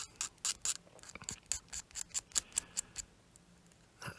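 An OLFA hobby knife trims nubs and seam lines on a plastic model, giving a quick run of short, crisp scraping clicks up close that taper off toward the end, with no talking.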